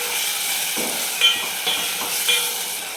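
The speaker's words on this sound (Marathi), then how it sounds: "त्याला पण आपल्याला तेलावर चांगलं परतून घ्यायचं" A large tomato fries in hot oil with a steady bright sizzle, broken by a few soft stirring scrapes as it is turned in the pan.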